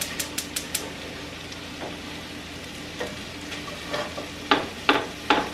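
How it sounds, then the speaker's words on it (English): Butter melts in a pan ahead of cooking ten eggs, giving a soft steady hiss with a few sharp ticks and pops, some quick early clicks and louder spatters near the end. "We melt the butter."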